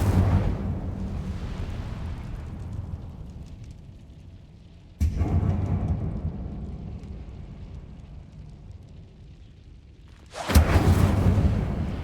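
Fire spells going off in a video game, three separate deep whooshing blasts, each with a sudden onset and a long roaring decay, played loud and close with no talking.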